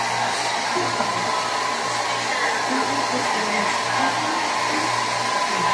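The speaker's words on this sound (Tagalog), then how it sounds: "Kapag basta yung buhok niyo, gusto niyo patuyuin agad, pilisin yung blower" A hair dryer blows steadily with a constant whooshing hum, close and unbroken throughout.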